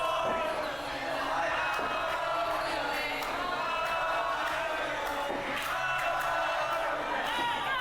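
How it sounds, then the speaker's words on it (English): At a lucha-style wrestling event, a large arena crowd roars and chants the wrestler Manú's name in rising waves, distant and reverberant, with scattered shouts and thuds. "There's the crowd just screaming Manú"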